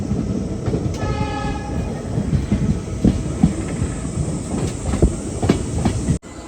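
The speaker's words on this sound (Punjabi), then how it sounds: "ਲਓ ਜੀ ਟ੍ਰੇਨ ਆਪਣੀ ਬਿਲਕੁਲ ਸਹੀ ਟਾਈਮ ਤੇ ਪਹੁੰਚ ਗਈ" Passenger train pulling into Nabha station in Punjab at the end of a journey from Haridwar, a steady rumble of wheels and carriages with a brief horn near the start, close and continuous, no talking.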